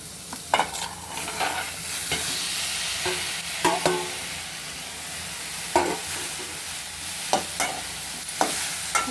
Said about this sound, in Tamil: தக்காளி மாங்காய் ரெண்டையும் போட்டு வதக்கணும்.